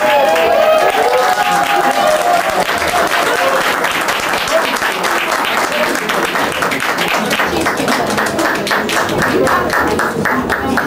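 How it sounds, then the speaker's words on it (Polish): A live audience at a cellar club event applauding, dense continuous clapping from a room full of people, loud and close, lasting the whole time with crowd noise mixed in. "Ogromne brawa dla Zosieńki"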